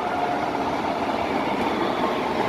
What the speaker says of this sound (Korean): 또 전철 옵니다